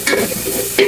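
Onion frying in a pan and being stirred, a loud close sizzle with scraping spoon strokes at the start and end of a brief burst.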